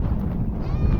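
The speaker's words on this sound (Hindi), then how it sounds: "जितनी तेज़ हवा है, बहुत तेज़ हवा है इस वक्त जी" Strong sand-storm wind roars and buffets the microphone in a steady, loud low rush at a goat farm, with no pauses.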